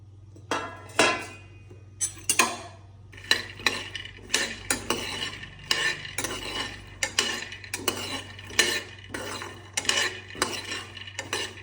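Panch phoron spices roasting in a hot pan and being stirred, a steady rhythm of metallic scrapes and clinks of a spoon against the pan over a low continuous hum, close and fairly quiet.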